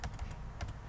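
Quick keystrokes on a computer keyboard, a handful of close, crisp clicks in an uneven burst with no voice over them.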